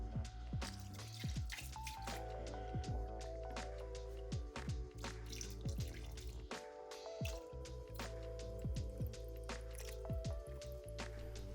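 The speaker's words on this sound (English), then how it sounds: "I'm mixing it here first before adding the blue pigment" Thick epoxy resin stirred in a container before blue pigment is added, about five gallons for a large pour: repeated wet, sticky squishes and drips close up, steady throughout, over a low constant hum, with no talking.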